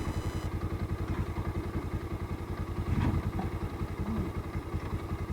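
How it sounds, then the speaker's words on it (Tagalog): A motorcycle engine that will not keep running sputters and chugs unevenly at idle, with a rough pulsing rhythm and a clattering thump partway through. "Dito ayaw nang umandar itong motor ni Aurelio."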